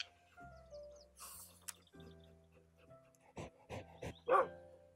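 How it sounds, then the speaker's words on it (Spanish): A pet dog in the video game Alchemist: The Potion Monger barks several times in quick succession near the end, after soft game tones and whimpering yips, close and fairly loud. "Tenemos a nuestro perrito"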